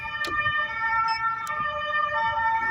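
An ambulance siren wails with steady tonal sweeps, fairly close and continuous, with faint traffic noise underneath.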